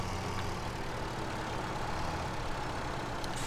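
A classic Massey Ferguson tractor engine in Farming Simulator 17 idles with a steady, unbroken low rumble, heard alone and without speech.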